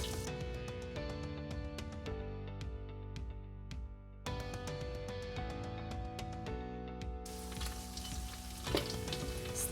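Washed rice frying over medium heat in a pot for coconut rice, a steady close sizzle with light scraping stirs and faint clinks, no talking.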